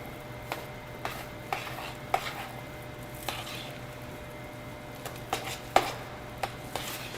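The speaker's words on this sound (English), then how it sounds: "got my whisk in, and I've got my bowl here. I'm gonna slowly mix all that in." A whisk clicks and scrapes against a bowl as ingredients are slowly mixed for a polenta casserole, a series of sharp separated taps over a quiet hiss, close and fairly soft.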